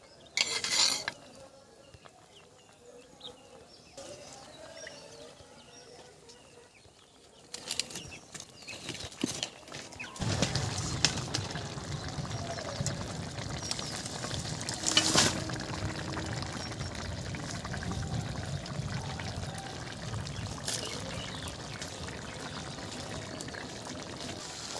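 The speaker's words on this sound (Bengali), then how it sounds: "ওপর থেকে হালকা করে এরকম করে ছড়িয়ে ছড়িয়ে চিংড়িগুলো দিয়ে দেব" Kitchen pan sounds as shrimp are sprinkled into a pan of mustard taro stolon curry, quiet at first, then clinking utensils and a louder wet stirring and sizzling clatter building up, close by with no talk.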